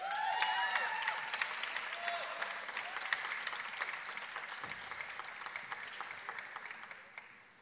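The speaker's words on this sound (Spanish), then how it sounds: "Fuerte aplauso para ellos" Applause from a graduation ceremony audience honoring postgraduate graduates, a broad steady clapping from a large crowd with a few cheers early on, tapering slightly toward the end.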